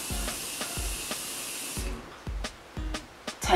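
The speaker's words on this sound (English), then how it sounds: "use your perfect setting spray" Beauty setting spray for skin over 40 hissing from a pump bottle in several quick bursts: one long steady mist followed by a few shorter, sharper puffs, close and fairly loud.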